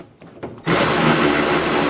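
Power tool driving a 10mm socket to remove liftgate bolts on a 2007-16 GMC Acadia, a few light clicks then a sudden loud, steady whirring buzz up close.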